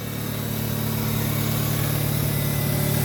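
A 1996 Mazda 626 car engine idles steadily, a smooth low hum with constant vibration and no speech.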